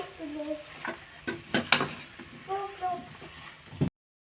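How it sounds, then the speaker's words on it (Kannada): Thick-cut potatoes fry and are stirred in a pan, with scraping, clattering utensil strokes over a soft sizzle while a voice talks at times. "ದಪ್ಪ ದಪ್ಪಾಗಿ ಹೆಚ್ಚಿರೋ ಒಂದೆರಡು ಆಲೂಗಡ್ಡೆ ತೊಗೊಂಡಿದ್ದೀನಿ ಇದನ್ನು ಸಹ ಚೆನ್ನಾಗಿ ಫ್ರೈ ಮಾಡ್ಕೊಳ್ಳಿ"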